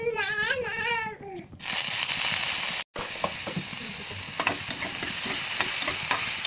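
Garlic and shrimp fry in oil in a pan, a loud steady close sizzle with crackles and pops, cut briefly by a moment of silence; a child's whiny vocalizing comes just before the frying begins.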